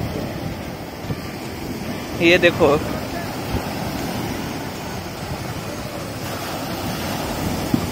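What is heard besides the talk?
ocean waves at a bridge, Koh Lanta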